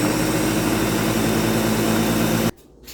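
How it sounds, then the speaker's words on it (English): A kitchen blender whirs loudly as it purées cooked potatoes until smooth. The dense, steady motor roar runs without pause, then cuts off abruptly near the end, leaving quiet. "Next, we're going to blend until smooth."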